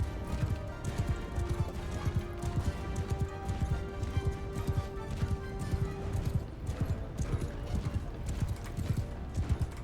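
A horse gallops in Mount & Blade II Bannerlord, steady rapid hoofbeats thudding close throughout with an occasional whinny and game noise beneath.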